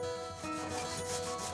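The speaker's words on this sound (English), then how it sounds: "a sanding block levels our roads and gives a weathered look to the concrete" A sanding block rubs steadily over the dried scenic cement roads of a model railroad layout, a close, continuous gritty scraping with a slight back-and-forth swell and no talk.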